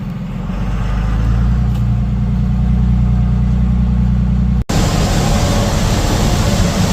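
Car engine on a road trip across Montana, a loud, steady low drone heard from inside the moving car, cut briefly partway through before louder, broader road noise resumes.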